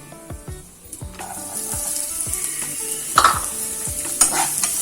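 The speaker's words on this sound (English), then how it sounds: "Saute it for some time" Onions and jeera sautéing in oil in a kadai, a steady broadband sizzle with repeated stirring scrapes and occasional sharper clinks of the spatula against the pan, close and fairly loud throughout.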